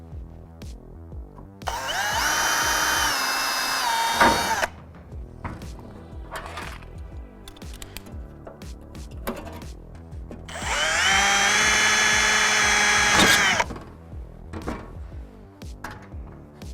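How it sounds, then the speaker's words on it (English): A power drill whirs in two bursts of a few seconds each, drilling into a seat panel held with clecos, with tapping and handling clatter between them. "grab the drill, pop in some clecos all the way around to hold it in place"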